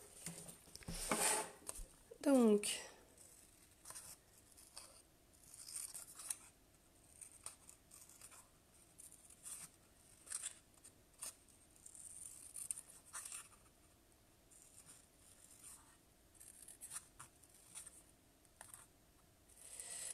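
Paper being cut with a pair of scissors while making a small Halloween coffin craft, giving soft snipping and rustling close by, with someone speaking briefly and faint background noise.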